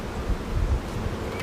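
Honey bees cluster at the bottom of a hive and hum in a steady, dense, close buzz that stays continuous through the short moment, with no talking.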